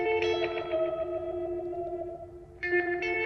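Electric guitar played through a pedal board and amplifier, sustained chords with heavy echo, chorus and distortion effects, a new strum entering near the end, clear and alone without talk.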